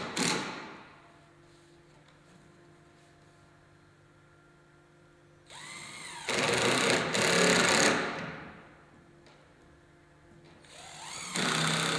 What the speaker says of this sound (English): attach all the handrails to the posts with 8 by 2 inch stainless steel screws